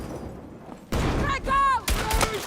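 Video game gunfire: a burst of broadband shots and impacts starting partway in, loud and close, mixed with a shouting voice over a low background.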